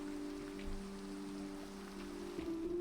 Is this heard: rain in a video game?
yes